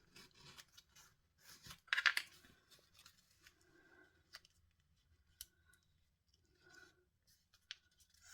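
Paper being folded and creased for an origami lily, soft close rustles and sharp scraping crease strokes in quiet, irregular bursts.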